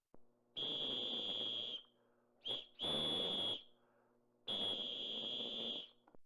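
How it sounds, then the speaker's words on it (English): Three shrill, steady whistle blasts in a tunnel, the second briefly broken, separated by quiet gaps; loud and piercing rather than faint. "Then, a faint whistle."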